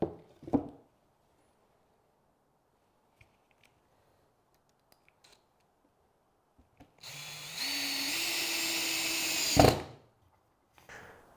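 A cordless drill drives screws to fix battens onto a wooden barn owl nest box, giving a single loud whirring burst of about two and a half seconds with a rising pitch, set apart by quiet handling knocks.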